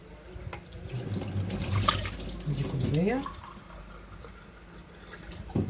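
Water pours and splashes into a pot holding sugar, rising in pitch as it fills, while someone speaks briefly over it.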